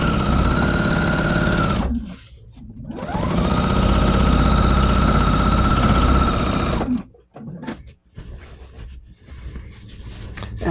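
Sewing machine fitted with a walking foot stitching through a scrappy quilt, steady loud mechanical whirring in long runs with two brief pauses and a stop-start stretch near the end, no talk.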